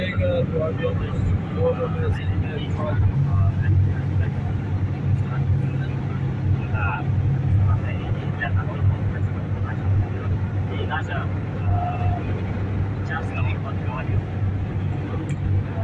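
Car cruising at about 140 km/h on a tree-lined highway in Abu Dhabi, heard from inside as a steady, loud low road and engine rumble with a voice talking over it throughout.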